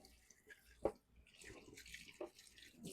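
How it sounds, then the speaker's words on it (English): Cold water runs from a kitchen tap to rinse freshly churned homemade butter, a faint, uneven splashing and dripping with a couple of brief louder spurts against the basin, heard quietly with no one talking. "now what I want to do is turn the cold water on."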